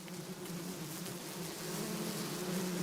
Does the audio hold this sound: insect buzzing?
yes